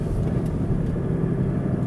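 Steady low road and tire rumble fills the cabin of a 2013 Ford Mustang GT CS sports car while driving, a continuous broadband drone with no voices over it.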